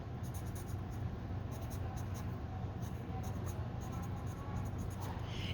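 A pencil scratches steadily across paper in a quiet room, a faint, continuous rasp of close, small strokes with no voices.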